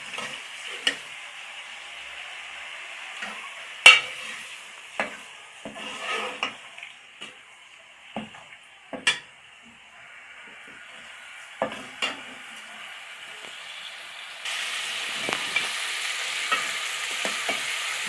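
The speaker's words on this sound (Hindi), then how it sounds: "दो 3 मिनट इसको हम भूनेंगे" Chicken pieces with salt fry in a pot under a faint hiss, punctuated by sharp metallic clinks and scrapes of a spoon stirring, with a louder sizzle rising near the end.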